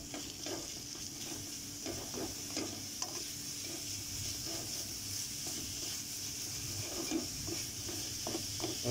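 Grated onion being stirred in a frying pan for samosa filling, giving a steady hiss and sizzle of frying with soft, repeated scrapes of a spoon across the pan and no talking.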